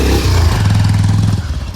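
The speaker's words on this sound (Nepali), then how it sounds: "भाइलाई चाहिँ बाइक चलाउन एकदम रहर लाग्यो अरे त्यही भएर अब उसले चलाउँदैछ" A motorcycle ridden on a mountain trail near Melamchigyang, its engine a steady close, loud drone with rough clattering texture throughout, no voices.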